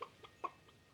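Chickens in the farming game Stardew Valley give a few short clucks, two or three quick bursts close by, fairly faint and alone.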